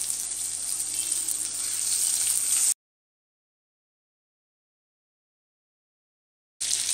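Butter sizzles and crackles as it melts on a hot tawa, a close, steady hiss for a few seconds that drops to sudden silence and then briefly returns.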